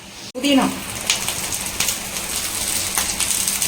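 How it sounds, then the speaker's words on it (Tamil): Steady rain falls outdoors in the evening with a soft, continuous patter. A brief thud comes near the start, and faint bird calls may sit under the rain. "நல்ல மழை வருது"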